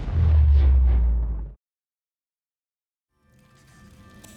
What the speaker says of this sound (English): a quantum explosion in the Aurora drive core put a stop to my plan.